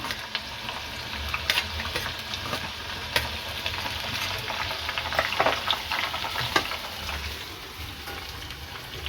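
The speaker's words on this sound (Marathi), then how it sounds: "कांदा छान परतून घ्यायचा आहे लाल होईपर्यंत" Onions sizzling in a hot pan with green cardamom and cinnamon pieces, frying steadily with occasional stirring scrapes and crackles, close and continuous with no talk.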